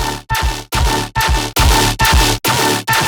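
A gritty bass sound runs through a vocoder with more than seven bands for future riddim production, chopped into about seven loud rhythmic pulses with brief gaps between them, harsh and buzzy with no talking.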